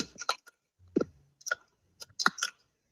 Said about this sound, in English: I could hear him chewing gum